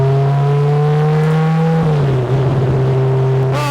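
A Spartan sports car engine, 644 bhp per tonne, drones loudly and steadily close by, its pitch dropping as it shifts gear, then pulling again with strong, even power.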